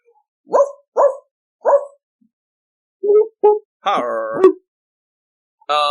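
A dog barks in a series of sharp, separate barks, three evenly spaced then a few more, with a longer whining howl near the end, close and loud with no talk.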